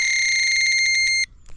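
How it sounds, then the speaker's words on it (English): A bite alarm on a fishing rod gives a rapid run of shrill electronic beeps for about a second, close and loud, then cuts off into quiet. "that then beeps to indicate that you've got a fish"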